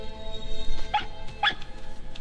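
A fox in the video game RiME gives two short, sharp yelps about half a second apart, heard mid-distance over a steady bed of soft ambient game music.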